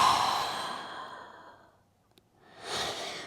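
A long, soft exhale during a beginner Pilates mat exercise fades out over about two seconds, followed by a short pause and a fresh breath, close and without talk.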